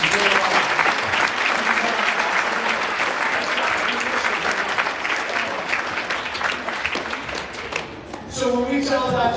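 Sustained, loud applause from a school assembly audience cheering volunteers, a dense wash of clapping that thins briefly near the end before swelling again, with voices faintly mixed in.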